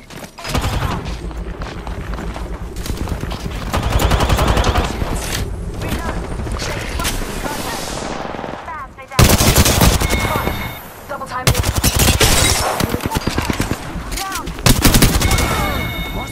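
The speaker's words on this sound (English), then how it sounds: "I'm getting shot at." Repeated bursts of automatic and single-shot gunfire from the video game Apex Legends, loud and close, with a brief lull near the middle before another intense barrage, while a player talks over the shooting.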